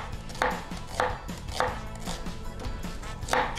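A kitchen knife taps a cutting board while chopping ingredients, such as onions, for a pasta-chip snack, in a slow, steady series of close, distinct thuds about every half second.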